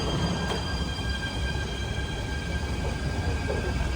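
An Athens metro train runs with a steady, loud rumble and constant wheel hum, faint high whine and light rail squeal, heard from inside the moving carriage.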